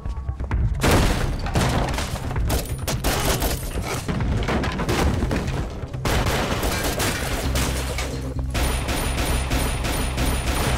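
Action film shootout with dense bursts of automatic gunfire and heavy booming impacts, loud and continuous under a cinematic soundtrack, with brief shouted voices.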